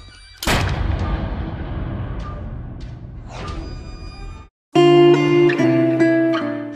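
A single loud gunshot booms and rolls away into a long fading rumble, followed after a brief silence by swelling tonal music.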